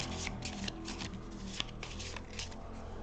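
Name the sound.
shuffling cards in Lost Ruins of Arnak board game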